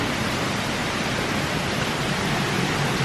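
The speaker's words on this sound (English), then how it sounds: "This is the heavy downpour." A heavy downpour from Hurricane Ida falls as a dense, unbroken hiss of rain close by, loud and steady throughout.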